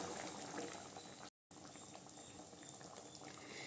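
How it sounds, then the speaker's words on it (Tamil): A pot of tomato kuzhambu curry boils on the stove with a steady bubbling simmer, faint and close, broken by a brief silent gap partway through. "குழம்பு நல்லா கொதிச்சிருச்சுங்க"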